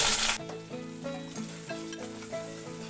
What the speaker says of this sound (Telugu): ఇప్పుడు దీంట్లో ఉల్లిపాయ ముక్కలు వేసుకుందాము.